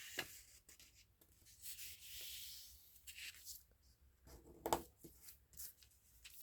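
A printed paper envelope being folded by hand for a junk journal, with soft, close crinkling and rubbing of paper, a few sharper creasing sounds, and brief quiet gaps between handling.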